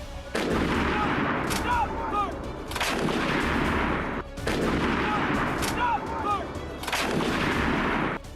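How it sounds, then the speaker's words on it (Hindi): Heavy artillery shells fire and explode in the Ukraine war, booming in long, loud rolling blasts that repeat about every three seconds and leave rumbling echoes between them. "एक ऐसा गोला है, आर्टिलरी सेल, जिसने जंग का रुख ही बदल कर रख दिया है"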